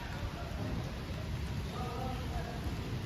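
Steady rain falling outdoors, a continuous broadband hiss with low rumbling, fairly close and even throughout, with no speech over it.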